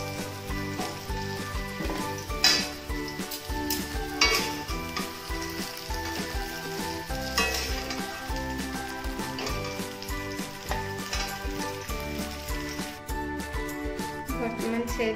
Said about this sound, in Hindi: देखो मु पणस को एपरी भाव में भाजी देछि